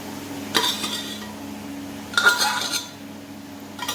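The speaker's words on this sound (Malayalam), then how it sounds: "ഇതിലോട്ട് നമ്മുടെ ദാൽ ഇതിനകത്തോട്ടൊന്ന് മിക്സ് ചെയ്ത്" A spoon stirring masoor dal into basmati rice in a metal pot, heard as two bursts of close clinking and scraping against the pot, with a faint third clink near the end, over a low steady hum.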